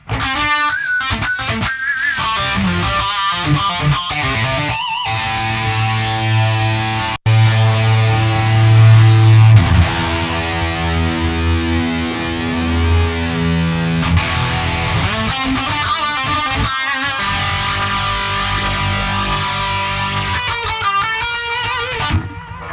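An electric guitar played through a Spark amp with a reverb effect rings out in sustained, distorted chords and single notes, the tails lingering and decaying between strums, loud and close.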